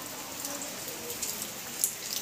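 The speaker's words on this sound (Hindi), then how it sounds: "बहुत तेज बारिश हो रही है" Steady rain hisses close by with a constant wash of noise and scattered sharper drops, no voices.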